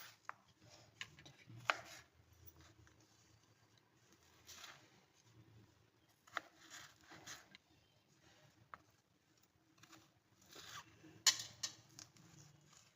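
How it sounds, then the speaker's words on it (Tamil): A knife chops baby corn into finger-sized pieces on a cutting board, giving sparse, irregular taps and clacks with quiet gaps between them, fairly close and soft. "இதே மாதிரி ஃபிங்கராக எல்லாத்தையும் கட் பண்ணி எடுத்துக்க போகிறோம்."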